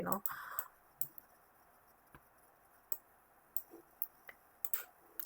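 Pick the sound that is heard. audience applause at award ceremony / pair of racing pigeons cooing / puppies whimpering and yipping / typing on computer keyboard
typing on computer keyboard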